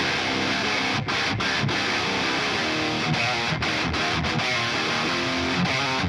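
Thick, sustained distorted metal guitars from blended amplifiers played together in a heavy chugging riff, dense and loud with brief choked pauses between chords.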